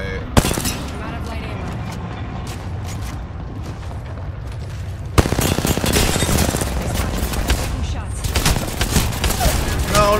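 Video game gunfire during a solo battle royale match, dense rapid bursts of shots and mechanical clatter running continuously, loud and close, with a player talking over it.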